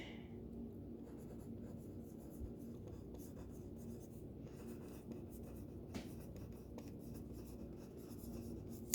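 A pen or pencil drawing along a ruler on graph paper, a steady soft scratching that runs close and quiet with a few sharper strokes, no talking.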